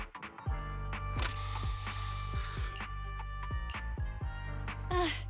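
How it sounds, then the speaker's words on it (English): Spray burst from the video game Zenless Zone Zero, a Bangbu gas spray: a loud hissing gush midway over a steady droning game background with clicky mechanical ticks, then a short second hiss near the end. "Here, have a taste of this special Bangbu spray!"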